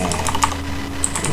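An email address is being typed on a computer keyboard, a quick run of light, close key clicks with no voice over them.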